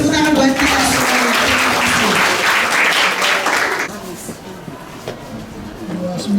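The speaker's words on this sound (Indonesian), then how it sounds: "Tepuk tangan buat kita semuanya" Applause from a school audience at SMA Negeri 1 Kupang, a dense wash of clapping for about four seconds, with voices talking over it, then fading into quieter room murmur and speech.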